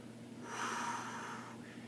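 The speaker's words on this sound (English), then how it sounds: "work on your breathing" During a golf fitness workout, a person takes one sharp breath in and out through the nose, close and audible, lasting under a second and heard over quiet room tone.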